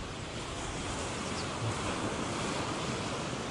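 Ocean waves rolling in at a Barbados beach, a steady broad wash of surf with some wind noise on the microphone, continuous and fairly close, with no talking.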